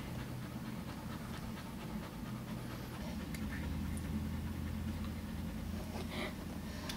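A female dog pants rapidly and steadily while giving birth to a puppy, a continuous soft breathy rhythm heard close but quiet, with faint background hum.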